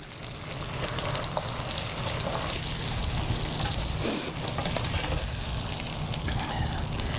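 Steak sears steadily in a hot pan, its ends held against the side, giving a continuous, fairly loud sizzle with a brief dip in the middle and no talk.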